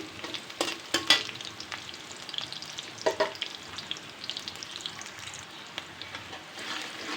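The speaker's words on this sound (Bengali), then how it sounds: "পেঁয়াজটা একটু ভেজে নিলাম" Chopped onion and garlic fry in a pan for cooking greens, making a continuous sizzle punctuated by irregular clinks and scrapes of stirring, with no talk.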